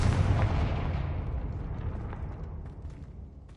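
Confringo fire spell bursting in the Hogwarts Legacy video game, a deep booming blast with a rumbling tail that slowly fades away.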